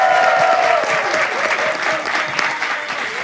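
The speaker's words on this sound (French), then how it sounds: "on applaudit Alain" An audience applauds Alain at a live talk-show event, a continuous dense wash of many hands clapping, loud and sustained, with a voice briefly heard underneath at the start.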